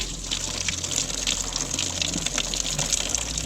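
Dirty coolant pouring from a removed radiator hose on a car being stripped for a drift build, a steady, close gushing splash of liquid throughout with no pauses.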